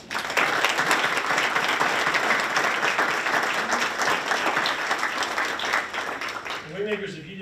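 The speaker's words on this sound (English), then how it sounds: "Let's give them a round of applause." Audience applause at a school district board meeting: loud, sustained clapping from a room full of people that fades near the end as a voice begins speaking.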